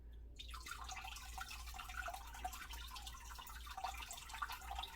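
Water pours into a narrow betta fish tank over a hand that spreads the flow, a steady close splashing and trickling wash that runs without a break and carries no speech.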